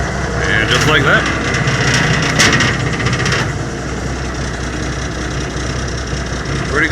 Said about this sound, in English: Pretty good exhaust, yeah?